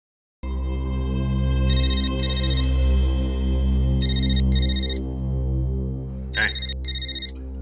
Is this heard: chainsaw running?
no